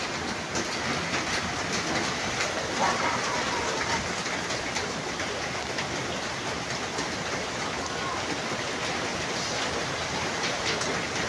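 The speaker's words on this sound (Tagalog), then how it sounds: "Sobrang lakas ng ulan." Heavy rain at a construction site makes a constant, dense roar of drops hammering on surfaces, loud and unbroken throughout.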